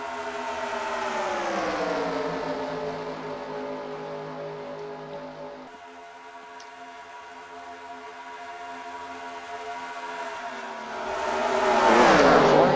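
Stock cars racing in a pack at Talladega in a racing video game, engines droning with rising and falling pitch as cars pass, then a loud close roar sweeping by near the end, with no talk.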